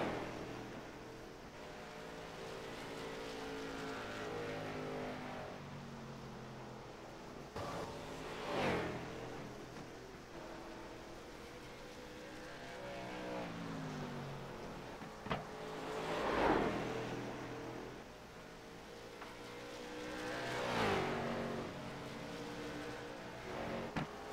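Late model race cars roar around Bristol under green flag racing, with continuous engine drone, rising and falling pitch as cars pass, and several louder swells of cars sweeping close by, heard from a distance without talk.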